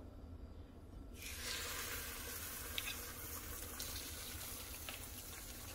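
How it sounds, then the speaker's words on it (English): A dipped tortilla sizzling on a hot griddle, a soft steady hiss that swells after the first second and continues faintly and evenly, with a small pop midway, no talking. "Gonna make sure it kind of sizzles just a little bit more."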